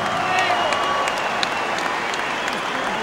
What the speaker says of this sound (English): a round of applause for two boxers who gave everything